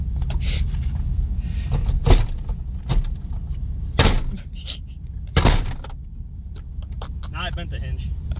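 A stuck truck door is forced open until its hinge bends, with repeated loud metallic bangs and creaks under ongoing talk and engine rumble, in a winter off-road run.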